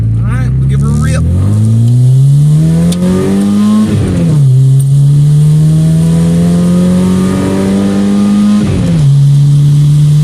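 A cold car engine starts and revs up steadily for several seconds, holding a loud, rising drone near the microphone before settling, with a person speaking over it.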